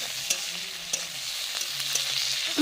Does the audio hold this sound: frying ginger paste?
yes